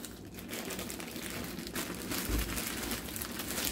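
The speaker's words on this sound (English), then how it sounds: "Let's get this unwrapped." Continuous crinkling and rustling of plastic packaging as a 1984 NABU Personal Computer is unwrapped, steady and close with no talking.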